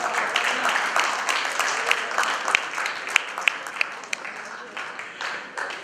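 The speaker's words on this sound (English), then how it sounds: "let's give a big round of applause" Audience applause at a Taj hotel reunion in 2016, steady moderate clapping with a few sharper individual claps standing out, voices murmuring underneath throughout.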